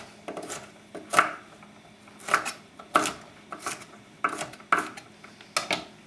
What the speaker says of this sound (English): go about dicing up the green beans